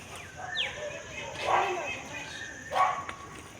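Small, cute, chubby dog giving a few short yips and barks at a house in Bangalore, moderately close, spaced across a few seconds with a faint background hum and no talking.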